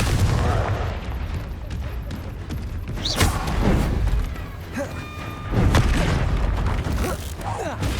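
Confringo fire-blast spell in Hogwarts Legacy, heard as a couple of booming bursts over constant rumbling combat noise, with magical whooshes and mechanical clatter in the mix.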